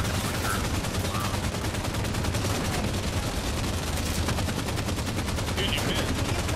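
Dense, rapid gunfire rattles continuously in a multiplayer shooter game match where a rocket launcher is in play, loud, sustained bursts with no pauses and a faint voice underneath.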